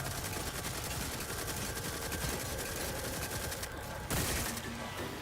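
Rifle gunfire in the video game The Outer Worlds, a dense, continuous burst of rapid shots at steady loudness, with a short break near the end before firing resumes.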